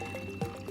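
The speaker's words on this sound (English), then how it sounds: "I've got a bottle here. I'm just going to fill it halfway with some water." Water poured into a bottle being filled halfway, a short gurgling splash with a brief rising burble, close and clear with no talking.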